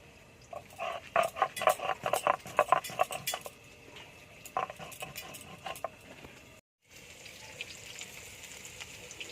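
Cumin seeds and dried red chillies being ground into a paste, likely on a grinding stone: a run of quick, rhythmic scraping strokes up close, then a brief silence followed by a softer, steadier rubbing.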